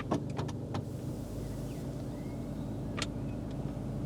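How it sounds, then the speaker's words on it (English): The electric convertible roof of a Volkswagen Golf Cabrio operates inside the car, a faint steady motor whir with a few clicks and clunks at the start and another near the end. "let's try this roof"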